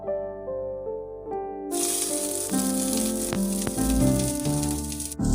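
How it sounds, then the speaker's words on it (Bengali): Chopped onions dropped into hot oil in a wok hit with a sudden loud, steady sizzle that keeps crackling over quiet background music. "তেল কিছুক্ষণ গরম করে এর মধ্যে ছেড়ে দিতে হবে আমাদের পেঁয়াজ কুচি।"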